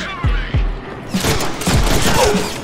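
Gunfire from a weapon in the Deadpool video game, a dense close burst of shots with heavy low thumps, loud throughout the short stretch.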